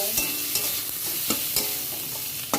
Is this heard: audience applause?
no